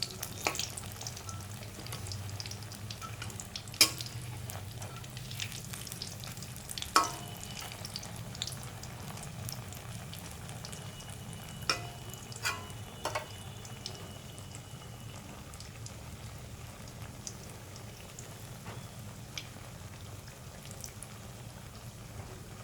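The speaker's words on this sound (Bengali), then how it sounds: "গ্যাসটা কমিয়ে ভেজে নিচ্ছি, যাতে ভেতরের কুমড়োগুলো ভালো করে সেদ্ধ হয়ে যায়।" Pumpkin pakoras sizzle gently in oil over a low gas flame, a steady soft frying hiss with occasional sharp pops and clicks scattered throughout, and no talking.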